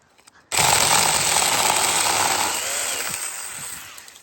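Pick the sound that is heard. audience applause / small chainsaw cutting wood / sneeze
small chainsaw cutting wood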